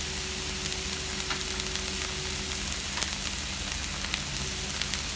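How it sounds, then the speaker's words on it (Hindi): Chickpeas fry in a pan with a steady, close sizzle and occasional soft crackles, continuous throughout with no talking. "ये फ्राई हो रहा है। अब मैं 1 कटोरी चना डाल रही हूँ इसमें।"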